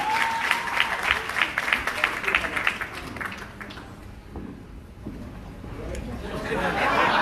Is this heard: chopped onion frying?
no